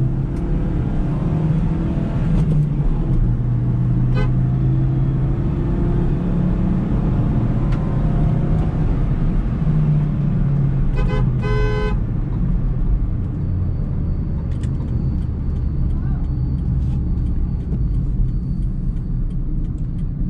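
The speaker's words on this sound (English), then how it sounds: "Going full throttle now." A Maruti Ritz petrol hatchback's engine is driven at full throttle, giving a loud, steady droning roar that rises slightly in pitch as it pulls. It plays alone, with no talking.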